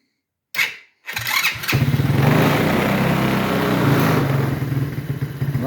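A small four-wheeler bike powered by a Unilabs booster pack battery clicks once, then starts up and runs steadily nearby with a loud, continuous motor drone and no talking.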